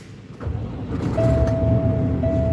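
A steady electronic sensor warning tone beeps inside a truck towing a trailer, a thin sustained pitch that starts partway through and runs on above the low rumble of the cab and engine, with a brief break near the end.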